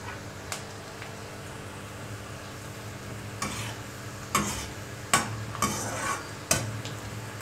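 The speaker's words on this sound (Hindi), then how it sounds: "बीच बीच में इसको हमको हिलाते रहना है गैस मैंने हाई फ्लेम में ही रखा हुआ है" Bitter gourd (karela) frying in a pan over a high flame, with a steady low sizzle broken by several sharp scraping clacks from stirring, close and alone without talk.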